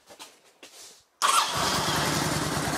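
A Kawasaki VN900 Classic motorcycle starts after a couple of brief starter clicks, catching instantly and settling into a loud, close, steady idle.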